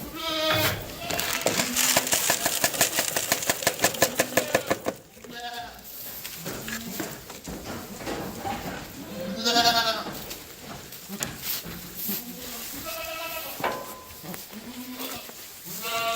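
Several goats bleat repeatedly at feeding time, close and loud, with wavering cries overlapping; a rapid rattling noise runs through the first few seconds.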